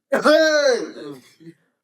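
During a football review show, someone clears their throat once, close to the microphone: a short, raspy voiced sound lasting just over a second, with nothing else heard.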